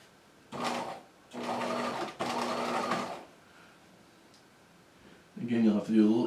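Sewing machine stitching a jacket body, three close bursts of rapid mechanical whirring separated by short stops, followed by a quiet pause and then a voice speaking.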